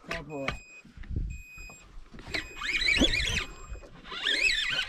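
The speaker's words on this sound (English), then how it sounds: "I want to stop that alarm" Electronic alarm on a fishing boat during a jigging trip, sounding as steady high-pitched beeping tones that repeat in short bursts, mixed with squealing sounds and excited talk over engine and water noise.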